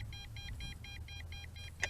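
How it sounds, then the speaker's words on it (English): An MJX Bugs 5W RC drone controller gives off a steady train of evenly spaced electronic beeps, about eight short pulses in quick succession, fairly faint over a low background rumble. "I hear constant beeping"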